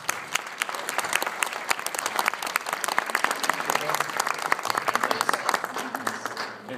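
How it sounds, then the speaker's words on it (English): An audience at a panel talk breaks into a full round of applause, dense clapping from many hands, loud and sustained for several seconds before slowly thinning. "Let's give them a round of applause."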